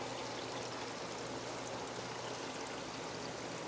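Water pours and streams steadily through a running plywood sump on a 500-gallon aquarium, a constant dense rushing wash with no talk over it.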